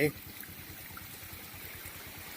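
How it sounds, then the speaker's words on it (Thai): Floodwater runs across a rural road between Ban Yang and Ban Alang in Sisaket, Thailand, giving a steady, close rushing and trickling flow that continues evenly throughout. "มาดูน้ำท่วมถนนกันนะครับ บริเวณนี้นี่ น้ำท่วมถนน ขึ้นมาเล็กน้อยนะครับ นี่ครับน้ำไหลเลย"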